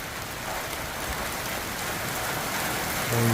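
Heavy rain pours down steadily during a thunderstorm in Westboro, Massachusetts, a dense, continuous hiss of downpour that swells slightly louder near the end, with no voices.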